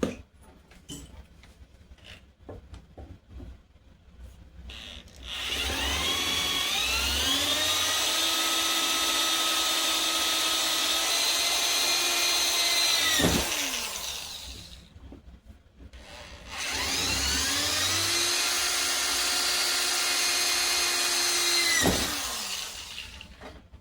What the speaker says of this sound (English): now we're just going to drill them out real quick